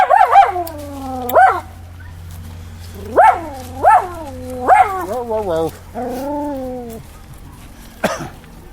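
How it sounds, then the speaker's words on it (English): Dogs bark in loud, high yelping bursts, several sharp barks spaced apart followed by a drawn-out whine and a final bark, close and prominent. "It's just these other dogs."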